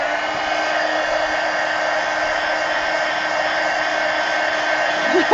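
A hair dryer blows steadily at close range while drying a mixed media collage on a pumpkin, giving a constant, loud whirring hum that ends with a couple of brief bumps.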